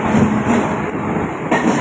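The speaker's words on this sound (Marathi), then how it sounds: "आता डोंबिवलीची स्लो ट्रेन लागली आहे." A Mumbai suburban slow local train to Dombivli runs steadily at close range, a loud continuous rumble and rattle of carriages on the tracks with a faint high whine above.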